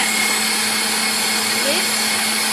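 An electric mixer on high speed whips cream in a home kitchen, a loud steady whirring motor whine holding constant throughout with a slight pitch wobble.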